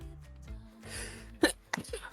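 One sharp, close sneeze bursts out amid shuffling noise, followed by a brief smaller exhale.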